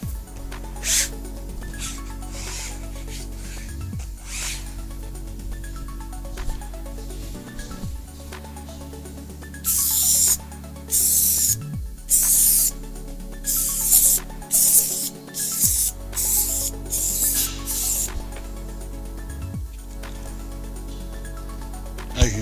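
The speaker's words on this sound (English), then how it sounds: "As you can see, again, spraying one way and the other way." Q-Dek 2003 roof membrane adhesive sprayed from a pressurised can in a series of short hissing bursts, back and forth, with pauses between passes and faint handling noise.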